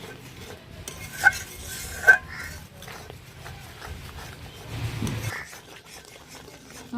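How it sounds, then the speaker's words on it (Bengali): Spice masala with salt and a little sugar sautéing in a pan, heard as quiet intermittent stirring and a couple of sharp clinks of a metal spoon against the pan, low sizzle underneath. "মশলা ভালোভাবে কষিয়ে নিয়েছি"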